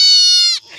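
A goat gives one loud, close bleat, a strong wavering cry that cuts off abruptly, heard alone without talk.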